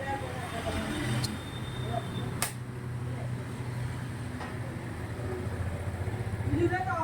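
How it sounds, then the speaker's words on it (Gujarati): A freshly repaired car engine idles quietly, giving a low, steady hum with a few light clicks and faint voices nearby. "જો ગાડી સ્ટાર્ટ છે."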